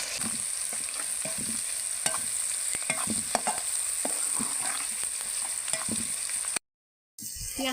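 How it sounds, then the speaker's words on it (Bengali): Onions frying in oil with salt and bay leaves in a cooking pot, stirred with a utensil: a steady close sizzle under repeated scraping knocks, with no talk, ending in a short gap of silence. "হাঁড়িতে পেঁয়াজ ভাজার জন্য দিয়ে দিয়েছি পর্যাপ্ত পরিমাণে পেঁয়াজ, তেল"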